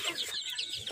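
Chickens cluck and chatter nearby in a brief, busy burst of fowl sounds from a chicken coop.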